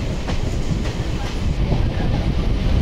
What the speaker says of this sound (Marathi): वाया कुर्ला मी पनवेल ट्रेन पकडून पनवेलला आलो आहे